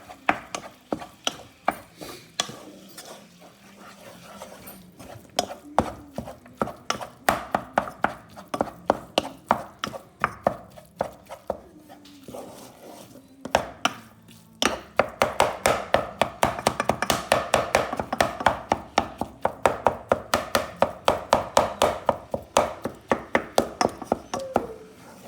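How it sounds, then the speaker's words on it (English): Browning beef mince in a pan for chilli con carne, stirred and scraped with a utensil, giving rapid repeated taps and clacks that grow denser and louder partway through, close up with no speech. "going to give the mince a stir now"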